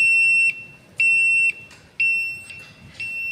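A buzzer on an RP2040 carrier board beeps in a steady on-off pattern, half a second on and half a second off like a vehicle indicator, a loud, piercing tone repeating several times.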